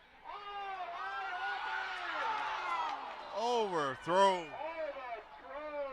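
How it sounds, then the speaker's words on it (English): A crowd at a high school football game between Kauai and Waimea swells into loud cheering midway through, under a voice talking steadily over it. "you heard the crowd go wild"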